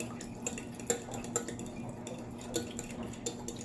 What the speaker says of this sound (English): Half a cup of milk and 2 eggs. Mixing that together.